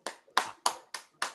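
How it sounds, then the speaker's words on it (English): Five sharp hand claps from one person in a steady rhythm, each a crisp near slap with a short decay, heard alone without talk. "Jacob's clapping, so it's got to be good news."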